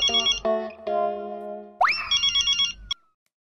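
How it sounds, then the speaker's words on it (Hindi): A landline telephone rings in a Hindi sitcom household, with a few short, bright electronic ring bursts, a sustained tone and a rising swoop. It comes through clearly and close, with no talk over it. "अभी मेहता सबको फोन कर लो।"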